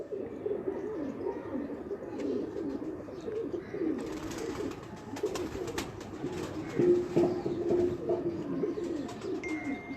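Jogi pigeons in a breeder's loft coo in overlapping low rolling calls, a continuous flock murmur close by with a few brighter chirps and rustles partway through.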